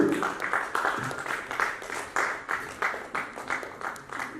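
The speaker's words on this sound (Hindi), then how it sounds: "हमारे इन साथियों के लिए भी जोरदार तालियां होनी चाहिए आप सबकी तरफ से।" An audience at an award ceremony in Jaipur applauds honourees called to the stage, steady rhythmic clapping from a crowd that carries evenly for several seconds at moderate loudness.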